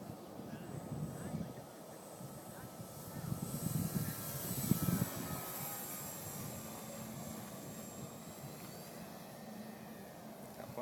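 A model Cessna 182 airplane flies over an airfield, its small engine droning steadily at a distance, rising slightly midway, while wind buffets and people talk nearby.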